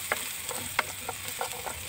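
Garlic, onion and ginger sautéing in a hot pan, a low steady sizzle broken by several quick stirring scrapes and clicks, close and fairly quiet.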